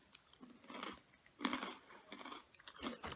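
Crunchy barbecue peanut snacks are chewed close up, a quiet run of irregular crisp crunching bites with short pauses between them and no talk.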